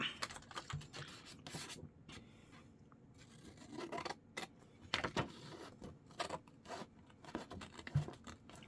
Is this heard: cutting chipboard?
yes